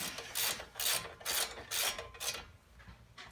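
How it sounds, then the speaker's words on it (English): A ratchet wrench snugging 17 mm front brake bolts on a Mazda 6 clicks in five quick bursts of rapid pawl ticks, close and fairly quiet, then fades to a faint ending with no talk. "These are 17 millimeter once again, so just tighten them down."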